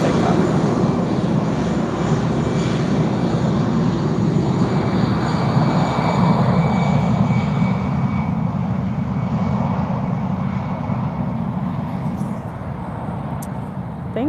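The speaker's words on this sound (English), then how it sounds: "First is takeoff." An airplane takes off at Lisbon Airport, a loud, broad jet-engine roar that holds strong for most of the span and begins fading slightly toward the end, heard from a distance with no talk.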